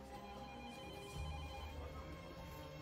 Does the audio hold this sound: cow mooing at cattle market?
no